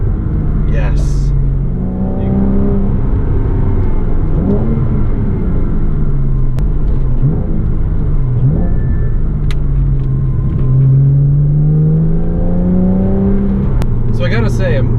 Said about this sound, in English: I'm super pleasantly surprised to find out that this exhaust isn't actually all that loud